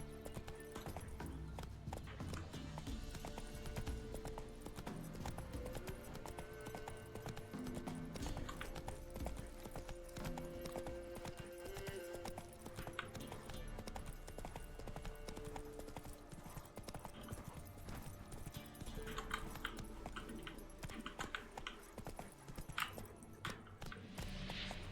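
A horse gallops in The Witcher 3: Wild Hunt, its hooves clip-clopping steadily and continuously throughout, mixed in with dense in-game ambience and music.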